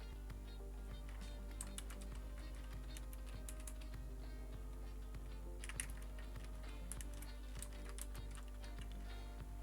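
Keys clicking on a computer keyboard in quick irregular bursts, close but quiet over a steady low hum, with no talking.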